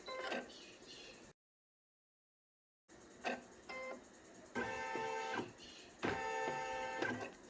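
An embroidery machine stitching a unicorn baby comforter produces rapid mechanical whirring bursts with rhythmic needle clatter, close and moderately loud, broken by a short silent gap.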